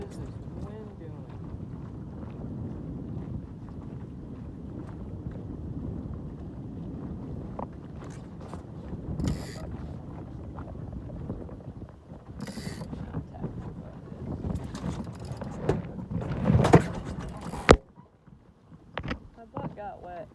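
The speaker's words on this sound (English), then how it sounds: "What is this wind doing?" Wind gusts buffet a sailboat out on open water, a steady rushing roar with louder bursts and microphone buffeting, plus brief knocks near the end before it drops away.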